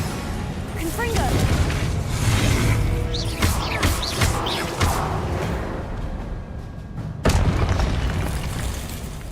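Booming magical blasts of the Confringo spell in Hogwarts Legacy, several heavy explosions with whooshing bursts layered over continuous game noise, one sharp loud hit near the end, with a voice talking throughout.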